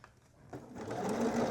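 A sewing machine edge stitches ribbon about 1/16 inch from its edge, run slowly along a seam on a hoodie's hood lining; its close, steady motor whir rises and builds over a short stretch with no talking.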